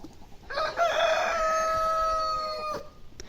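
A rooster crows loudly nearby, one long drawn-out cock-a-doodle-doo with a bright, strained tone, heard alone over quiet outdoor background.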